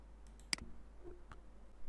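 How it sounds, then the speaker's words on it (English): A single computer mouse click while working in Microsoft Word, a short sharp tick standing out briefly over a quiet room hum, followed by a faint softer click. "Next, I click on Footer."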